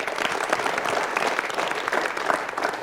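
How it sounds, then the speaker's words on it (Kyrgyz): A studio audience at a televised children's aitysh improvised-poetry contest breaks into brisk, continuous applause, close and fairly loud, with many hands clapping in dense, uneven ripples. "Кол чабуулар."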